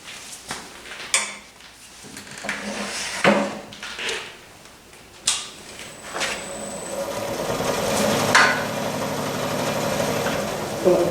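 A skew chisel takes a squaring pass across a wooden natural-edge bowl, turned from a tree limb, spinning on a lathe. Scattered scraping bursts give way to a steadier, louder cutting hiss in the second half.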